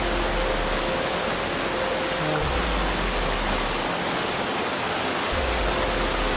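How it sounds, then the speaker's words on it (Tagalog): Steady rushing of a flowing stream, a dense continuous wash of water that stays loud and even throughout with no voices. "Itong sapa, no?"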